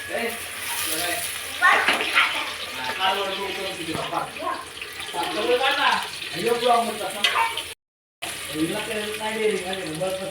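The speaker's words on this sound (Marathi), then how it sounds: "कांदा मस्तपैकी गुलाबी होऊन जायचा असा हलवायचा" Chopped onion fries and is stirred in a pan with mustard seeds for vegetable pulao, giving a steady soft sizzle with spoon movements under continuous talking.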